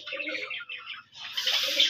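A black-and-white pigeon coos softly amid chirping bird calls close by, with brief flutters and a faint voice in the background.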